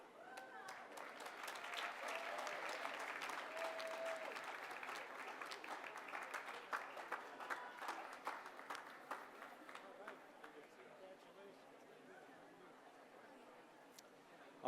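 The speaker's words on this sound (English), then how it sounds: "a round of applause to all the recipients of the Dean's Academic Achievement Award" A graduation crowd at a 2014 Weatherhead awards and diploma ceremony applauds award recipients, a faint, steady wash of clapping that lasts several seconds and slowly tapers off, with some crowd chatter underneath.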